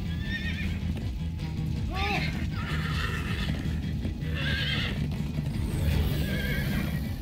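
A horse in the video game Minecraft Story Mode neighs and whinnies several times over steady clip-clopping hooves, with game dialogue and voices talking alongside.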